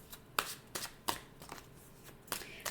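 Tarot cards being shuffled by hand, a run of crisp riffling bursts and soft slaps at an uneven pace, close and fairly quiet with no talking.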